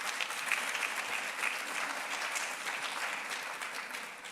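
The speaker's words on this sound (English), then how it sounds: "Give him a round of applause." Sustained audience applause fills a convocation and awards ceremony hall, a dense, steady wash of many hands clapping at once for over four seconds, fairly loud, with no speech over it.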